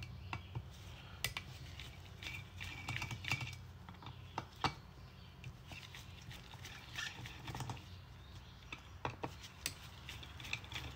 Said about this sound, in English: Take these 3 screws out.